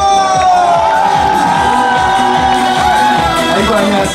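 A large audience at a Gyeongnam middle school alumni reunion concert cheers and applauds an invited singer, a loud, continuous roar of shouting and clapping that holds steady from start to finish.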